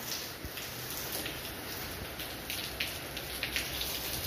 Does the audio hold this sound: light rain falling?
yes